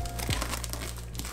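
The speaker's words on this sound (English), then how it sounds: "I hate opening things like this in plastic." Plastic packaging around PC parts crinkles steadily up close as it is opened, a continuous rustle over a constant low hum.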